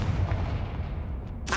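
A Confringo spell blast in the video game Hogwarts Legacy: a deep booming impact with a rumbling tail that decays over about a second and a half, fairly close, with no talk.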